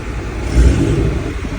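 Car engine running after a key start, a steady mid-pitched idle with a brief swell in revs near the start, close and fairly loud with no talk over it.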